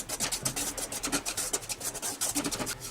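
A spoon stirs roasted semolina with cardamom powder in a pan, making soft, rhythmic scraping and rubbing strokes up close, repeated several times a second.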